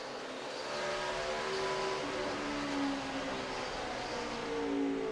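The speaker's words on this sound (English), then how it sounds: "that 11 car, Denny Hamlin, he's getting ready to get bushwhacked because he got the 2 Busch brothers breathing down his back bumper" NASCAR stock cars race around the short oval at Richmond, their engines forming a loud, continuous droning roar with steady pitch sweeps as the pack circulates, heard without talk.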